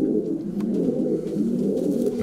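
Racing pigeons coo softly in a loft, a steady low murmuring of several birds overlapping continuously at close range, with no talking.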